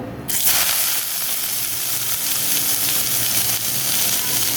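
Chopped boiled greens and leaves land in hot oil with an abrupt start, then a loud, dense sizzle and crackle of frying that holds steady throughout.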